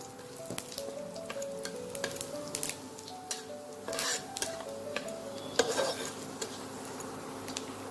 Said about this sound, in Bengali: এবার আমি গোটা জিরেটা দিয়ে দেবো।